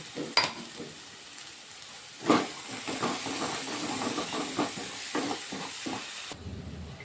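Spinach paste for palak paneer fries in a pan with a soft steady sizzle, punctuated by scraping stirs and occasional louder clatters of a spoon, close and alone.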